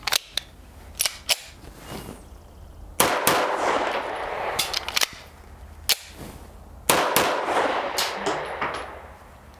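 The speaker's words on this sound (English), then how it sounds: "I'm gonna go ahead and do a double tap, drop, pop, double tap again, see how it does." A CZ Shadow 2 pistol fires loud, sharp shots in quick pairs, separated by pauses where metallic clatter from a magazine drop and reload can be heard, and no one speaks.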